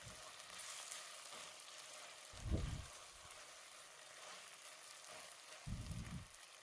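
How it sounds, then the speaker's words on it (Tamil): Faint, soft sizzling of tomatoes sautéing in a pan with a couple of brief low clunks from stirring, quiet and continuous. "நல்லா வதக்கி கொடுங்க"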